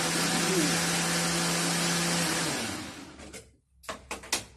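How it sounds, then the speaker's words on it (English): Kitchen blender whirring as it blends kefir, a steady loud motor drone that runs for a couple of seconds and then winds down, followed by a few knocks and clatters. "Put this in the blender at this moment."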